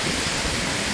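Heavy rain and strong wind pour in a thick, unbroken roar of noise, loud and close, with no voices.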